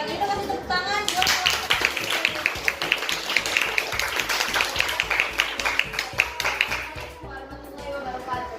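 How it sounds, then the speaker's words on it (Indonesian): A classroom audience claps after a student maths presentation, fairly close with sharp, rapid handclaps lasting about six seconds before stopping, with voices around it. "kalau gitu kasih tepuk tangan buat"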